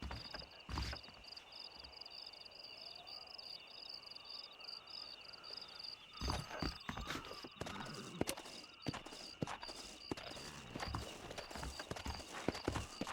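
Horse hooves in the video game Red Dead Redemption clop along at a steady walking pace, rhythmic and fairly close, with a constant high insect-like chirring behind them.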